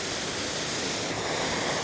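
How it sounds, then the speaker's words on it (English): A waterfall on a rough hiking trail near Rangeley, Maine, pours as a loud, steady broadband rush of falling water, continuous and close, with no voices. "That's a really nice waterfall."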